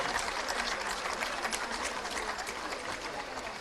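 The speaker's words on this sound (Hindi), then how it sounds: "जोरदार तालियां।" Steady applause rises from attendees at a chief minister's appointment letter ceremony for successful candidates, a continuous wash of clapping from a sizable crowd, moderately loud and unbroken throughout.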